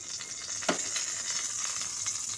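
Two spoons of ghee sizzle in a hot kadhai, a steady close hiss with a brief sharp crackle near the start and no talking.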